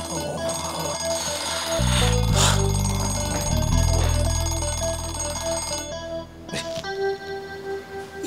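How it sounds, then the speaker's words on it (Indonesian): An alarm rings at night, a loud, continuous clock-like ringing with steady tones and ticking that carries on through the whole stretch, while other noises come and go. "Alarm siapa sih malam-malam gini?"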